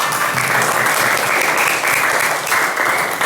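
A classroom of students applauds together in a school guidance lesson on managing emotions, producing loud, close, continuous clapping that stays dense and even from start to finish.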